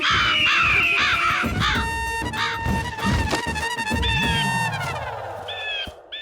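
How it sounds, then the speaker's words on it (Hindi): Several crows caw loudly and close by in harsh, overlapping calls that come in rapid repeated bursts, with a denser flurry of cries near the end. "कौवे आ रहे हैं"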